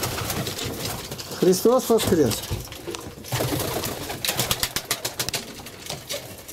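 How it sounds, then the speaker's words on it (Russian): Pigeons coo softly in a short burst, close by, while someone talks over them and rustling movement continues. "Какие у меня голуби."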